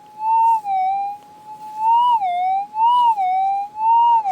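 Loud, sharp target tones from a Minelab GPX-5000 metal detector fitted with a Coiltek Elite Max coil while hunting for gold, a steady high whine rising and falling in repeated swells over several seconds, with no talking.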